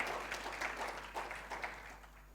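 Applause from a church congregation at a Sunday afternoon service, a steady wash of clapping at moderate distance that holds evenly before thinning toward the end, with no voices over it.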